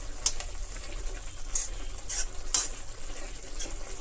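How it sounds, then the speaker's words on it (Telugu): Drumstick leaves and sesame-meal curry sizzle steadily in a pan while a spoon stirs through, with a few sharp scraping accents over the continuous frying hiss; no talking. "చక్కగా బాగా కలబెట్టేసి ఇది పూర్తిగా డ్రై అయ్యే వరకు ఉడికించుకుంటే"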